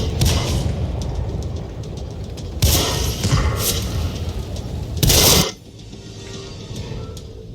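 Explosions and heavy cannon blasts in World of Tanks ring out as several sharp booming bursts over a rumbling mechanical background, ending in a quieter tail.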